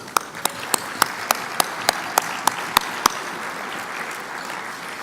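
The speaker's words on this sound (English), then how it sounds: "So give yourselves a round of applause." Steady applause from an audience at a distilling industry awards gala, with a few single loud claps standing out at a regular pace over the broad crowd clapping.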